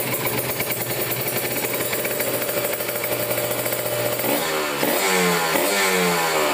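A motorcycle engine with a freshly tuned carburetor jet idles with a steady, buzzing rattle, then is revved hard several times, rising and falling in pitch, close up and loud.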